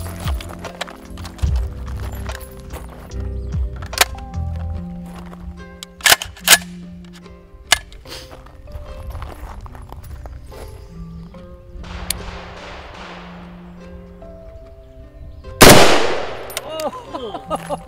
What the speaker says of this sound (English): What do you say we shoot it with a scar?